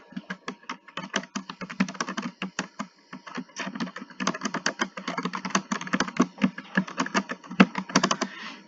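Fingers type on a computer keyboard at close range, rapid irregular clicking in bursts with brief pauses, the keystrokes crisp and alone.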